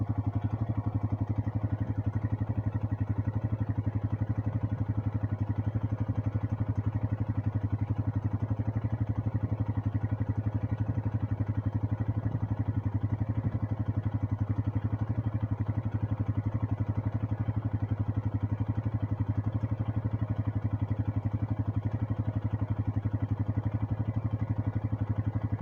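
International 886 tractor running with a hay baler, a steady low engine drone with mechanical clatter holding constant and continuous throughout.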